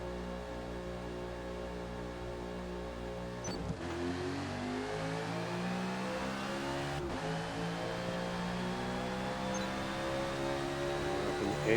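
A NASCAR stock car engine in Forza Motorsport at Eaglerock Speedway hums steadily while exiting the pits, then climbs in pitch through gear changes with two brief shift breaks, loud and continuous throughout.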